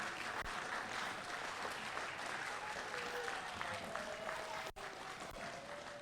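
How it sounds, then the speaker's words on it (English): A school audience applauds with sustained, even clapping that fills the room and holds steady for several seconds, with a brief dip partway through. "So round of applause for the teachers, the staff, the TAs, everybody in the school"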